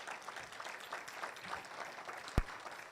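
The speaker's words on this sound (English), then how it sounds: "A huge round of applause" Faint, distant applause from an audience at an annual general meeting, a soft steady patter of clapping with one sharp thump near the end.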